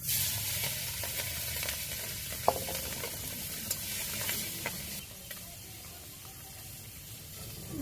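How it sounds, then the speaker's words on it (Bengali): Fish rubbed with salt, chili powder and turmeric sizzles in hot oil in a wok, a steady close hiss with a few sharp pops and spits that eases toward the end. "কড়াই তেল গরম হয়ে গেছে, এই যে মাছগুলো দিয়ে দিই।"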